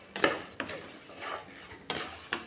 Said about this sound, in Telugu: వీటిలో వేయించుకొని వేయించేసుకుంటాం.